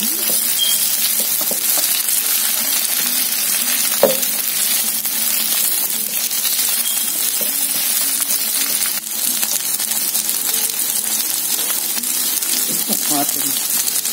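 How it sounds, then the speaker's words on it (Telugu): Okra frying with onions and green chillies gives a loud, continuous sizzle with occasional stirring scrapes, no voice heard over it. "ఇది పచ్చిమిరపకాయలు కూడా ఫ్రై చేసుకున్నాము ఉల్లిపాయతో పాటు వేసి"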